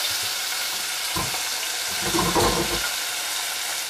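Mixed vegetables hit a hot pan of spiced oil with lightly browned cardamoms, bringing a steady close sizzle that swells briefly as they land and settle, with no talk.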